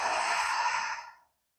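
A single long, breathy exhale during a yoga session, steady for about a second before trailing off into silence, close and clear with no talking.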